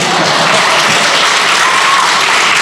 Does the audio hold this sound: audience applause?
yes